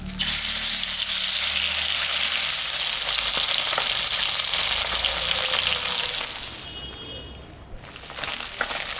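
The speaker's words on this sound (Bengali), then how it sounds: "তেল গরম হয়ে গেছে, আমি এখন মাছটা ভাজবো।" Fish seasoned with salt and turmeric fries in hot mustard oil, a loud, dense sizzle that crackles steadily and then dips briefly before resuming.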